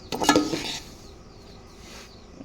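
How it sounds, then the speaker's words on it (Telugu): Semolina frying in ghee for rava laddu, stirred in the pan: a brief scraping stir up front, then a soft, quiet sizzle. "మంచి కలర్ వచ్చేదాకా వేయించుకోవాలి"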